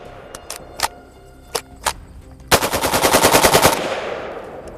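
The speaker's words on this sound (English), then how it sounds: "Let's take it to the range and see if it's going to fire with all this mud." A mud-covered rifle fires at the range: several separate sharp single shots come first, then a loud rapid burst of automatic fire lasting over a second, fading into a trailing echo.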